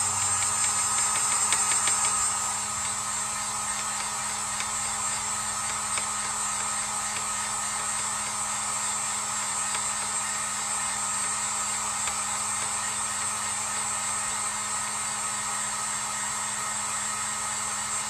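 A hair dryer blows steadily on fresh paint on a handmade craft lighthouse, a loud, close, continuous whoosh and hiss that runs unbroken for the whole stretch with no talking.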